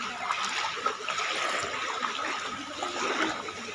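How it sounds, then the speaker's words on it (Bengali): Someone wades through knee-deep flood water on a city street in Dhaka, with steady sloshing and trickling water close by and faint voices in the background. "হাঁটু পানি দিয়ে হাঁটতাছি"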